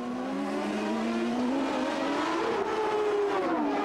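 Race cars circle a racing circuit, one steady engine whine rising and sliding in pitch as it passes, loud and continuous with no voices.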